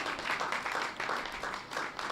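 An audience claps at a Bible college convocation award ceremony, a moderate, steady patter of applause in several swelling waves.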